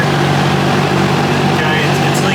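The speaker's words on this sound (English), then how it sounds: "I have an exhaust leak on my heat riser" Small engine idling on a 1973 VW Thing with an exhaust leak at the heat riser, a steady close rumble with a faint hiss, partly masked by a running fan, with no pauses.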